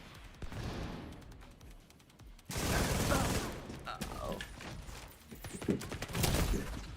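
Rapid bursts of gunfire from a PvE shooter video game, with repeated sharp reports rising in intensity after a quieter stretch, mixed with mechanical clatter and game ambience.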